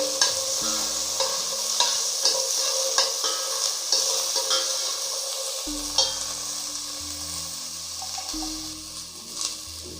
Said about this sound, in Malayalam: ചെറിയ ഉള്ളി, വെളുത്തുള്ളി ഇട്ട് നല്ലതുപോലെ ഒന്ന് വഴറ്റിയെടുക്കാം.